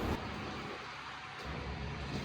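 Rain pours down outdoors as a dense, even hiss that fills the whole stretch, with a low rumble underneath and no voices.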